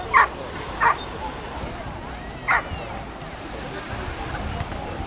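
Dogs bark and yip at a dog beach in Odessa, three sharp barks spaced apart over a low murmur of distant beach chatter.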